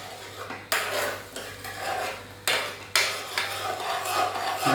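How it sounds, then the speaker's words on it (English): Carnation milk being stirred into a korma sauce in a pan, with a spoon scraping and rubbing against the metal in repeated strokes, close and fairly loud, with no talking. "Stir that in."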